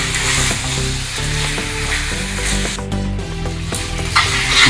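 Bengali-style mutton curry with potatoes sizzles and fries steadily in oil in a pan while being stirred, a continuous close crackle with soft scraping of the spoon and a faint musical background.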